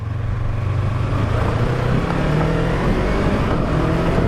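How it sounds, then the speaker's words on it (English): A Yamaha R3 motorcycle pulls away under a twisted throttle, its engine note rising steadily in a smooth, continuous climb, fairly loud and close with no talking. "Just twist the throttle and this bike accelerates so quickly and so linearly."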